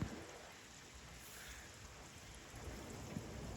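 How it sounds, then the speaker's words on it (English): Heavy rain falls at night as a steady, even hiss of downpour, fairly quiet and continuous throughout with no voices. "It's 1 in the morning, and we're having a rain. Like it rains so much."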